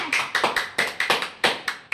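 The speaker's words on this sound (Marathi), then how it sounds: "जोरात टाळ्या वाजवा" Several people clap together in rhythmic, fairly close bursts at a home birthday celebration, just after the birthday song, with about a dozen sharp claps.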